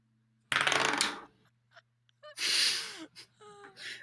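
Dice roll and clatter across a table during a tabletop role-playing game session, a loud rattling burst followed by a second tumbling run a moment later, with brief gasps and small vocal sounds in between.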